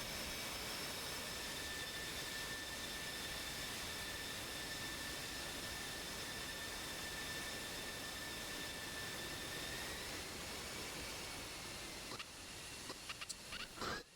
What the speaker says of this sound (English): you can always tell when there's an F-15 taxiing around because it just makes this noise